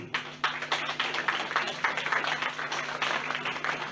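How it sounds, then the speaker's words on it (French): An audience applauding writer Claude Janvier at a citizens' initiative referendum gathering, sustained dense clapping filling the space with a few sharper individual claps standing out, a low steady hum underneath. "Nous pouvons applaudir et applaudir très fort Claude Janvier"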